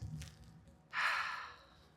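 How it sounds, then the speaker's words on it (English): A single long exhale from one person, a soft breathy rush rising suddenly near the middle and slowly fading over about a second, close and alone in a quiet room during a breath-hold breathwork exercise. "So when you're ready, you can breathe all the way out"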